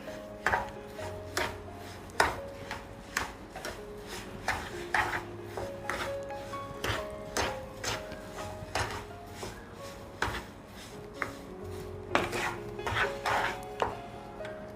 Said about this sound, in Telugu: షుగర్ యాడ్ చేసి మొత్తం అదే విధంగా మిక్స్ చేస్తూ ఉండాలి.